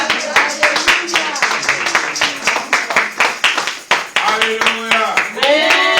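Congregation at a Sunday church service clapping rhythmically to acclaim Jesus, a steady fast beat of many hands, loud and close, with voices calling out over it.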